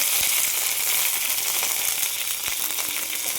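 Mustard seeds spluttering in hot coconut oil while cooking elephant foot yam mezhukkupuratti: a bright, continuous sizzle close up, with sharp little pops and crackles scattered throughout.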